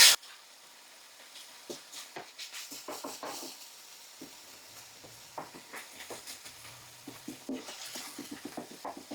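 Garlic and onions cook in a pan with a faint sizzle. A utensil stirs and scrapes through them in irregular clinks and taps, close up with no talking.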